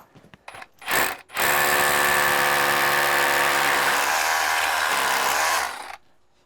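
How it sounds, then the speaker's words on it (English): An SDS Plus hammer drill bores into thick concrete for sleeve anchor holes after a couple of short starts, then runs loud and continuous with a harsh rattling grind for about five seconds. "Now I got my big drill, my SDS Plus, and I'm going to drill these holes."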